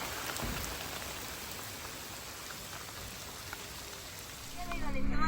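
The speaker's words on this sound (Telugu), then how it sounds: "మేము బ్రేక్ఫాస్ట్ చేస్తుంటే వర్షం అనేది స్టార్ట్ అయింది" Steady rain patters on surfaces nearby in Lakshadweep, a continuous even hiss that swells slightly louder at the end, with a low rumble creeping in.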